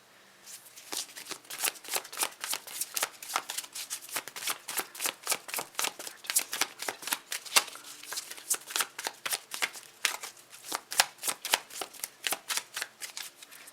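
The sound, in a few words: tarot cards being shuffled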